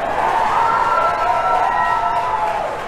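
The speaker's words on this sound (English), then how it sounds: "some major cheering going on here as every stage of this test unfolds" Crowd cheering at SpaceX in Hawthorne, California during the Crew Dragon in-flight abort test, a loud, close burst of excited shouts and whoops blending into one wavering roar that tapers off slightly at the end.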